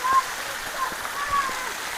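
A waterfall pours into a cold swimming pool, giving a steady, close splashing rush throughout, with a slightly louder surge at the start.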